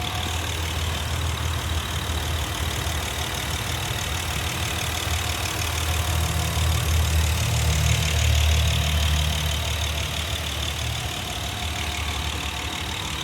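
A 2014 Honda Pilot EX-L idles steadily after a cold start, producing a constant, smooth, fairly loud engine hum with no talking.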